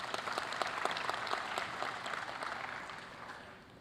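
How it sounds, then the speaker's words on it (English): Audience applause at the official launch event for South Africa's 2024 elections, a dense, sustained wash of many hands clapping that slowly fades toward the end. "Another round of applause, ladies and gentlemen."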